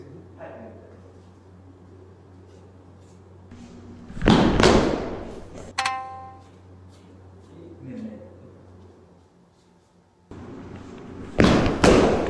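Bamboo shinai strike during a kendo demonstration of seme technique, with several sharp cracking impacts and thuds spaced across the clip, fairly close and loud, amid quieter footwork and room noise, no speech over them.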